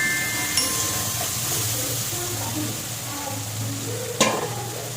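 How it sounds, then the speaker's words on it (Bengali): Spice paste (masala) fried in oil in a pan for a hilsa fish recipe, with a steady close sizzle and soft stirring scrapes throughout and a sharp clink of the utensil near the end. "ভালো করে কষিয়ে নিয়েছি মশলা"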